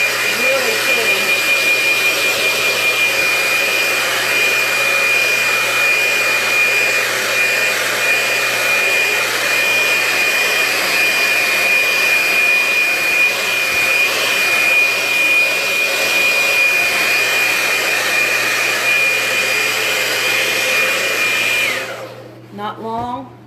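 A hair dryer blows on layered paint with a loud, steady, close whine and rushing air for about twenty seconds, then cuts off abruptly near the end.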